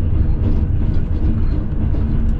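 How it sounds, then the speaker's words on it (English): A passenger train on an overnight run to Lahore, Pakistan, rumbles steadily along the tracks at speed, a loud continuous low roar with faint rhythmic clatter and no talk. "we're passing another train right here"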